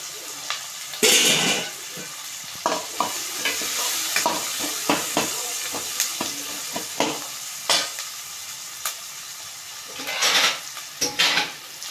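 Onions and curry leaves with turmeric sizzle steadily in a pan for a fish curry, punctuated by frequent scraping stirs of a spoon against the pan.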